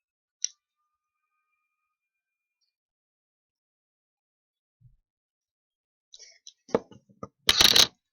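A Spider-Man card is handled and flicked, a few faint isolated clicks followed by a cluster of close rustling and snapping card sounds near the end, otherwise near silence.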